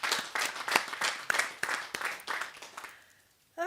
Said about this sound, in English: So please join me in a round of applause for 20 years of fantastic service for councillors.